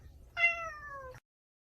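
A cat gives a single clear meow lasting under a second, close and fairly loud, then silence.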